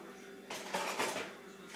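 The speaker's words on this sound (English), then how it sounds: "we're going to get us a little spoon" Metal kitchen utensils clatter and clink for about a second as a spoon is pulled from a drawer or utensil holder while baking chocolate cakes, a brief close rattle between quieter moments.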